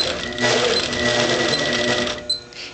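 An APQS Millennium longarm quilting machine basting a quilt gives a steady, close, rapid mechanical stitching chatter that runs on for a couple of seconds before a brief stop and a small knock.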